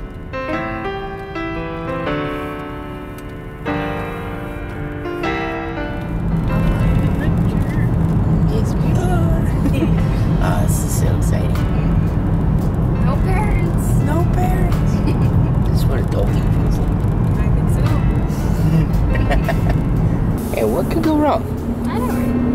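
A car driving on a road in New Mexico, a steady engine and tyre rumble that builds after a quieter start and continues throughout, with music or other tonal sounds in the first few seconds.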